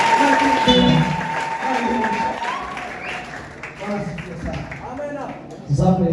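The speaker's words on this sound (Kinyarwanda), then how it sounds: "ayo mashyi materana" Congregation applauding during a church service, a dense wash of clapping carrying steadily throughout with a sustained musical tone and voices woven underneath, then a fresh burst near the end.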